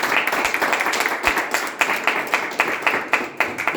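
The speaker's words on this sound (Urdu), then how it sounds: "آئیے اس کے جلال کے لیے تالیاں بجاتے ہیں" A church congregation at a Sunday service clapping together in a steady, rhythmic beat, with a faint voice underneath.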